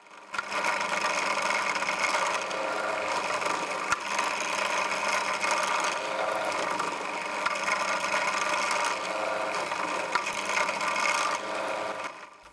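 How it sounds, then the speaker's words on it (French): A small drill bit bores into a carbon fiber knife handle, enlarging an existing hole, a steady close whining grind that holds level for about twelve seconds with a few faint ticks and no speech. "je vais venir repercer un tout petit peu plus gros"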